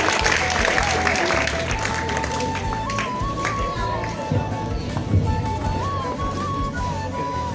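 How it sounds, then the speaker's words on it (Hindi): Continuous crowd clapping at a B.Ed. students' farewell function, a thick, even wash of applause sustained throughout with a faint wavering tone running above it. "तालियां बजाते रहिए।"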